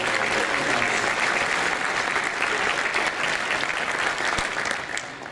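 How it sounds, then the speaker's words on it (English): A crowd at an annual meeting gives a round of applause for the sponsors, dense steady clapping that holds throughout and fades slightly at the end. "Let's give all of our sponsors a big round of applause."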